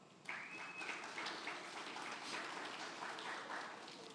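A church congregation applauds steadily at moderate distance, a dense even wash of clapping that starts abruptly and holds for about four seconds with no talk over it.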